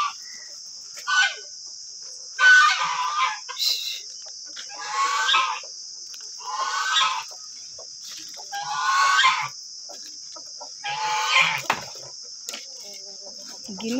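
Guinea fowl and chickens in a village give a run of harsh, repeated calls in uneven bursts, close and fairly loud, over a steady high drone of crickets.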